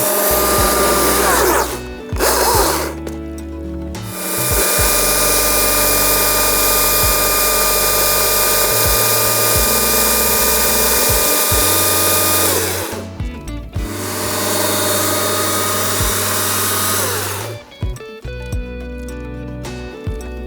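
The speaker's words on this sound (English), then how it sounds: "both my hands were on the saw, and I've always kept moving back away from the blade to give myself some space between me and the log." A chainsaw cuts a log, its loud high engine whine held steady through long cuts, dropping out briefly between passes and revving back up, close by.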